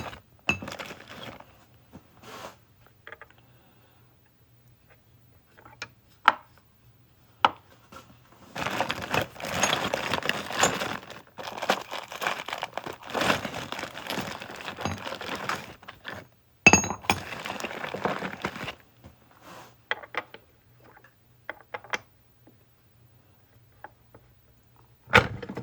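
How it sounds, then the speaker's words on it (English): Metal tools work a 2014 silver half dollar into a ring, producing scattered sharp clinks and then long stretches of dense, rattling clanking, close and loud, with short quiet gaps between. "Sorry about all the clinking and clanking that's about to happen."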